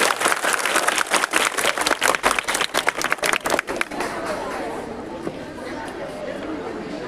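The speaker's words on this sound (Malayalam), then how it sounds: "നീണ്ട കയ്യടി" Students in Kerala applauding in a room, with fast, loud clapping for about four seconds before it stops and gives way to crowd chatter and murmuring.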